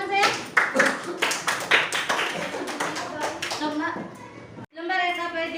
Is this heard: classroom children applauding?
yes